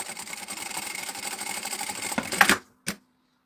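A sewing machine stitches a fabric seam in a steady rapid run for a couple of seconds, then stops with a short clunk followed by a brief final burst.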